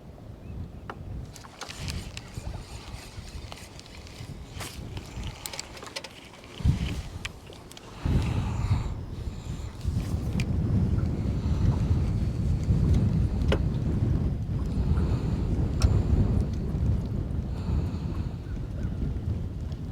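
Gusting wind buffets a microphone on a boat on a river current, a steady low roar that swells stronger in the second half, loud and continuous with no talk.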